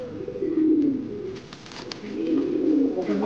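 White Bombay pigeons cooing close by, two soft, throaty rolling coos in succession, with faint background chatter.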